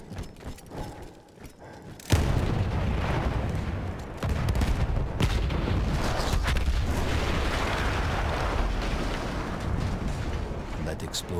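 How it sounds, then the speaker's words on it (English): A loud explosion in Battlefield 1 bursts out at about two seconds as an artillery gun is blown up, then gives way to a sustained roaring rumble of wartime battle noise with thuds and blasts. "That explosion was one of the sweetest sights of the war for me."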